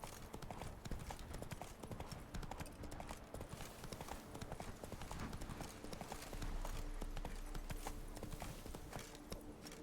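Roach, a horse in a video game, clip-clops along at a steady gallop, hoof beats dense and loud throughout with game ambience beneath and no voices.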